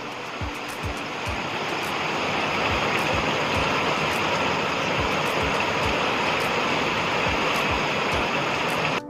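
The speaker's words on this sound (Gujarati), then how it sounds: "પાંચ મિનિટનો વરસાદ છે, કેવડું પાણી કરી નાખ્યું જો." A heavy downpour pours down in a steady, dense, hissing roar that stays loud and unbroken throughout, with faint low thuds underneath.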